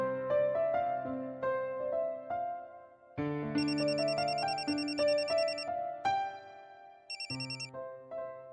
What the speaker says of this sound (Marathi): काय ग अर्चू, तू कशाला फोन केलास?